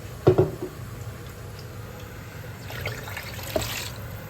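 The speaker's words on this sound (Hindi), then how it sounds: "इसके अंदर थोड़ा सा पानी और जाएगा अभी।" Water poured into a lassi and gram flour mixture for Punjabi pakoda kadhi, a short splashing burst near the start followed by a faint trickle and a small splash later, close by with no talk.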